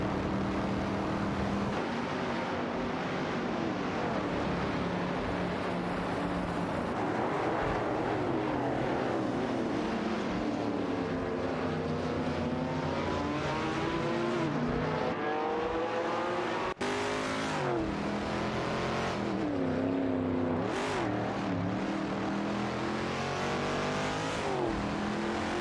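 Race cars in a racing video game roar past one after another, engines rising and falling in pitch as they sweep by at a steady, loud level, with no speech.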